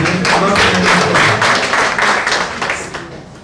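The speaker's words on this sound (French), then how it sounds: "Applaudissez pour lui." An audience claps for a journalist at a football draw event, a dense burst of many hands that starts loud and gradually thins and fades toward the end.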